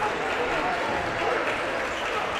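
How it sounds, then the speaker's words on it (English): Student section clapping in the stands at a Jackson County high school basketball game against the Monterey Wildcats, a steady, dense wash of crowd noise that fills the gym without letup. "Student section for Jackson County is clapping away."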